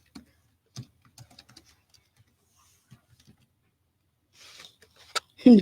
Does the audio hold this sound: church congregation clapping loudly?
no